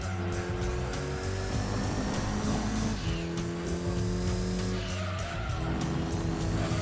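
Mitsubishi Evo VI RS race car in Gran Turismo 2 at full throttle, its engine droning steadily with rising and shifting tones alongside faint tire squeal, continuous and loud throughout.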